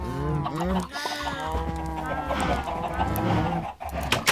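Minecraft chickens clucking in quick, chattering bursts, several birds overlapping at close range over a continuous game backdrop.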